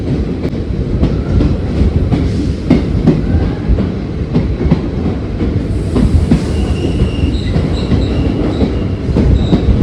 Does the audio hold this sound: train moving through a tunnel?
yes